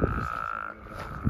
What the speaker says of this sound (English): I think it was a spadefoot.